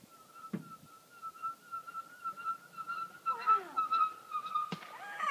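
Someone whistles a sustained high note with a few brief breaks and pitch slides, over faint background noise and a couple of soft knocks.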